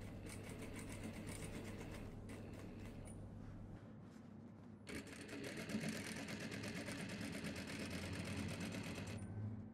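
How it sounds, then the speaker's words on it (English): A sewing machine top-stitches a narrow 1 mm seam on a dress, running steadily in two long bursts with a short slowdown between them, close and fairly quiet. "The seam should be top stitched this way from the beginning to the end."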